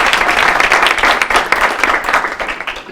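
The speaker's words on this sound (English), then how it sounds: "so give him a round of applause" Audience applause at a speech contest, a full, dense burst of many hands clapping in a hall, loud and close, tapering slightly over three seconds without any speaking.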